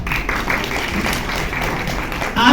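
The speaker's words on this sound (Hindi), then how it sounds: "आपकी तालियों में, भरपूर तालियों में इनको खुशामदीद कीजिए" An audience claps for a speaker being welcomed to a motivational session, a dense, steady patter of applause filling the room with a brief louder swell at the very end.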